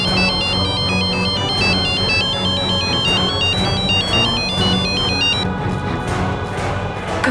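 A phone ringtone plays continuously and loudly, a repeating melodic electronic tune ringing for an incoming call to Kabir, with a dramatic music bed underneath and no voices.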